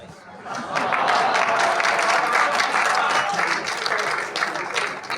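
An audience at a Hindi poetry recital by Dr Ashok Chakradhar breaks into loud, dense applause that swells quickly and holds steady before tapering slightly, with a few chuckles mixed in.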